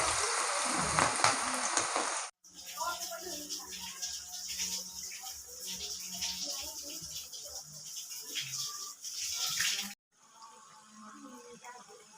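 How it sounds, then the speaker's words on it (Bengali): Cauliflower chops fry in hot oil with a bright, crackling sizzle that fills the clip, interrupted by brief pauses and rattling of a utensil. "এই যে আমার কপির চপগুলো ভাজা হয়ে গেল গরম গরম কপির চপ"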